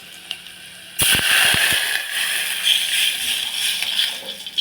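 Mustard seeds, cumin and garlic hit hot oil with a sudden loud burst of sizzling and a few sharp crackles and pops, then a sustained spattering hiss that stays strong, no talking.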